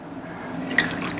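Liquid for a Kentucky Derby drink poured over ice, a soft trickling splash with a small clink of ice near the middle, close and moderately quiet against a faint room murmur.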